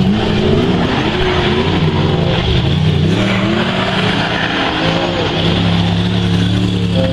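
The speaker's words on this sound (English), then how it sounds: "having had a run in a sprint car, it's very throttle responsive" Sprint car engine revving hard on a Kaikohe race track, a loud continuous throttle-responsive roar with rising and falling pitch as it accelerates, no talking.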